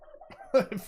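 Siren sounds processed with trippy effects for electronic music production, heard as short, warbling, quacking tones like fading ducks, brief and moderately loud with small pauses between bursts.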